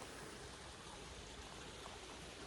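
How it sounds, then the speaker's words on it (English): A small brook flows steadily behind a hunter on quiet grouse-hunting ground, a soft, constant wash of trickling water with no break throughout. "The little brook behind me."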